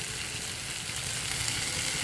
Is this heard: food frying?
yes